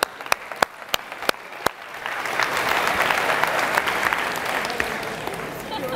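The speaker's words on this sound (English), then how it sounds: "Let's clap it up." A few sharp, isolated claps at a Compass Real Estate keynote quickly swell into sustained audience applause that fills the room for several seconds, with no speech over it.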